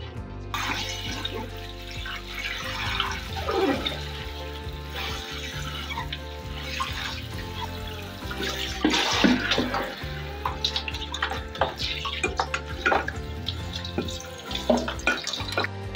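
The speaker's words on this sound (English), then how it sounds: "I need to heavily, heavily rinse them for several minutes under fresh, cool running water." Cool tap water runs steadily over turnips being rinsed in a sink, a continuous close splashing and trickling with shifting gurgles and drips as the pieces are moved about.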